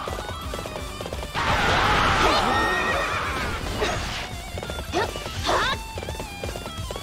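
A horse in Warriors Orochi 3 lets out a loud, drawn-out whinny lasting a couple of seconds, followed by galloping hoofbeats and sharp impact sounds from battle.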